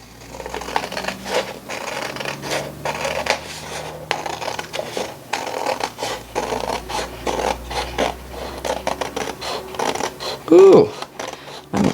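Cheap Dollar Tree scissors cut through paper in a steady series of scratchy, rasping snips, close and moderately loud, with a brief louder clack near the end.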